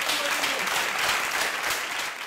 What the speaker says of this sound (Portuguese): Uma salva de palmas para isso.